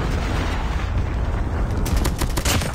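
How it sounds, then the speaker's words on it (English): A predator missile strike in Call of Duty Mobile, a 10v10 Kill Confirmed match, lands as a continuous loud rumbling blast that swells into sharper crackling bursts toward the end, with no voices over it. "Friendly predator missile inbound."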